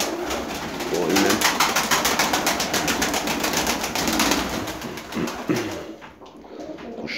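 Pigeons coo steadily up close, a continuous throaty murmur with faint flutters, fading slightly near the end.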